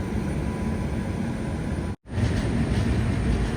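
The Rajdhani Express rushes through Manjeshwar railway station in Kerala with a loud, continuous rumble and roar of passing coaches, broken by a brief gap before the noise resumes, close by with no talking.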